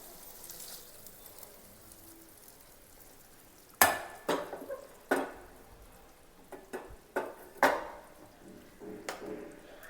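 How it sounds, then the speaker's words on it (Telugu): A tempering is added to vegetable sambar in a pan, giving a sudden loud sizzling burst followed by several shorter crackling spurts and stirring scrapes over a quiet background, with no talking. "నేనైతే తాలింపు అనేది యాడ్ చేసుకుంటున్నాను ఇప్పుడు"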